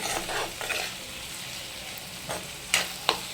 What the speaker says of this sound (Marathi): थोडे तुम्ही बॉईल केलेले 1 वाटी हिरवे मटर ॲड केले, ते पण आपण परतून घ्यायचे छान.